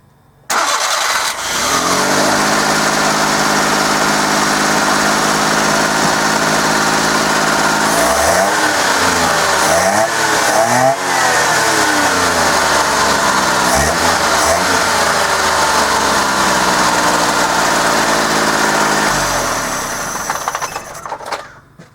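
Suzuki Carry engine with a straight open air intake, no filter, cranking and catching, idling steadily, then revving up and down in several sweeping pulls before settling and shutting off, loud and close throughout with no talking.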